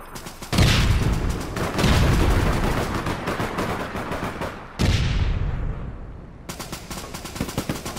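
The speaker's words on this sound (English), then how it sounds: "Oh, grenade, grenade, grenade!" Gunfire and a grenade explosion in the online shooter APB Reloaded: two heavy booming blasts with decaying tails, followed by scattered rapid shots, loud and close.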